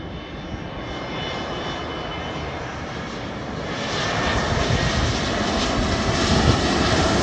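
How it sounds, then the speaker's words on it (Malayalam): An IndiGo airliner coming in to land at Calicut Airport makes a steady, loud engine roar that swells louder partway through and holds, with no voices. "ഒരു ഇൻഡിഗോ ഫ്ലൈറ്റ് വരുന്ന രംഗമാണ് ഇപ്പോൾ നിങ്ങൾ കാണുന്നത്"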